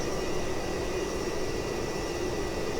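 Avro Vulcan B.2 jet engines in a P3D flight simulator give a steady, unbroken broadband roar with a faint high whine on top, constant in level and with no voices.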